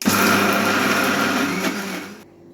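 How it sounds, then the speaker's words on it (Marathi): A mixer grinder whirring at full speed through soaked green moong, ginger, garlic, green chili, semolina and yogurt for dosa batter, a loud steady motor whine that cuts off abruptly near the end. "आता हे सगळं मिक्सरमध्ये बारीक करून घेऊया"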